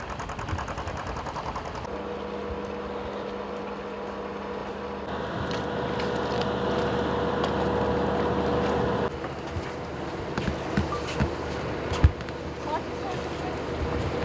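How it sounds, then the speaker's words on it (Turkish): A sailboat motors into the fishing harbour at İskenderun, its steady engine drone and water noise continuing throughout, with a few sharp knocks and bumps near the end as it comes alongside. "Başak Mireli, İskenderun balıkçı barınağına teknesiyle yanaştı"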